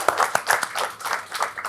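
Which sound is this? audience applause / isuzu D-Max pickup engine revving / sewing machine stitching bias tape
audience applause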